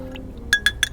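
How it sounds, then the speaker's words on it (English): A spoon clinks three times against a glass, sharp and close with a brief ring after each tap, while stirring a paloma cocktail with fresh lime. "Let's give it a little stir."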